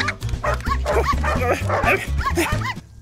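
A cartoon dog in an animated Mr Bean episode barks and yips repeatedly in quick, lively bursts, loud and close, with short whimpering cries mixed in.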